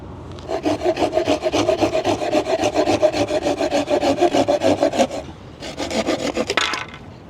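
A Silky folding hand saw cuts through a wooden board held vertically. Rapid, rhythmic back-and-forth strokes rasp loudly up close, stop briefly, then resume for a final short burst.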